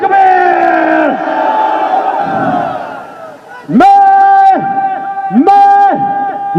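A large political rally crowd roars back a religious slogan in unison, answering a leader's call with long, loud, sustained shouts that repeat in waves.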